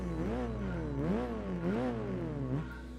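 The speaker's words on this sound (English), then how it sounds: "this car sounds good" Engine revving in Gran Turismo 4 Spec II mod at the Grand Canyon track, pitch climbing and dropping in repeated waves over about three seconds, close and clear with no talk.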